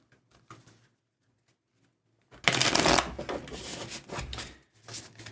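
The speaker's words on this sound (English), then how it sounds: "And I'll shuffle these cards" A deck of tarot cards shuffled close up: a faint riffle first, then after a pause a loud, sustained rustling shuffle with a few brief bursts at the end.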